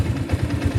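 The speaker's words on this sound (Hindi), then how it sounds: "एक बार मैं आपको गाड़ी को स्टार्ट करके बता देता हूँ कैसी इसकी आवाज़ है।" A Honda Hornet 160R motorcycle engine idles with a steady low, throbbing pulse, close and moderately loud, with no voices.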